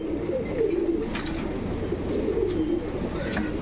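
Old Line pigeons cooing close by, repeated low rolling coos in a steady rhythm, with faint background noise.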